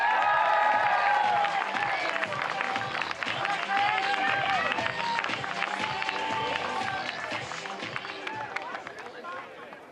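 A large crowd cheers and claps at the start of the Wollongong T100 triathlon, a continuous roar of voices and applause that stays loud and sustained, with a commentator talking over it.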